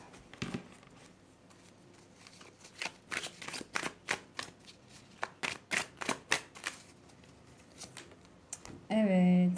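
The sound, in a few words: shuffling tarot cards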